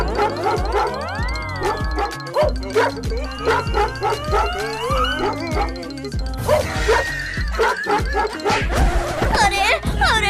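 A cartoon puppy yips, whimpers and barks in quick bursts, loud and close, mixed with animated character voices and comic sound effects.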